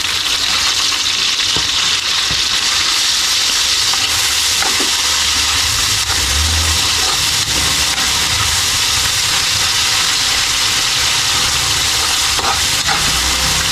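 Garlic, onion, ginger and fresh shrimp paste sauté in a hot pan, giving a steady, close, loud sizzle and hiss with occasional stirring scrapes throughout, no voices.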